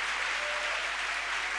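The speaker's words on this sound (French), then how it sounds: "You can applaud." A church congregation applauds in a steady, dense wash of clapping that fills the space evenly, moderately loud and continuous without voices standing out.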